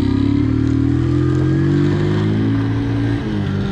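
A Barton 50cc fuel-injected motorcycle rides past close by, its small engine droning steadily with a rising, then gently fading note; no one speaks.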